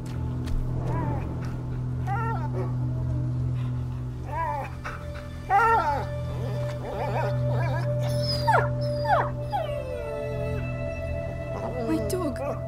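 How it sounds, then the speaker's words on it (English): A dog whimpers and whines in a series of short, high, wavering cries over a steady low hum in the video game A Plague Tale: Innocence, fairly close, with speech around it. "My dog."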